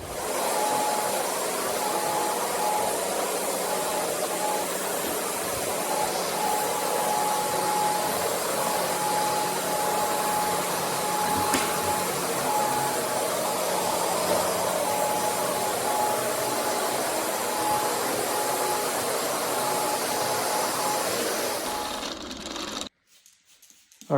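A floor buffer screening a hardwood floor hums in a steady, loud whir for over twenty seconds before it cuts off abruptly near the end.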